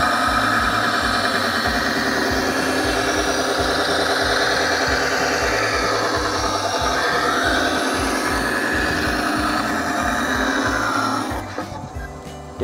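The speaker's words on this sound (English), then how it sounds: "I'll always use my disc sander and sand it right to" A disc sander runs steadily at a loud, close level as wooden cornhole pieces are sanded, with a continuous mechanical drone and rhythmic pulsing that winds down near the end.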